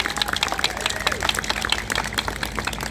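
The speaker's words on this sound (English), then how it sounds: "another round of applause" A crowd at a protest in Auckland, New Zealand claps steadily, a dense patter of hands with murmuring voices mixed in underneath.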